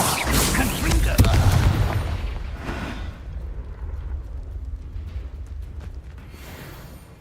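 A Confringo blasting spell explodes in Hogwarts Legacy, a loud booming burst with heavy low rumble that swells and then decays into a lingering tail, with a voice calling out over it.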